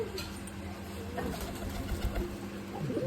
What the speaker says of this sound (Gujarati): જો આ કબૂતરા જો આવ્યા છે હાલ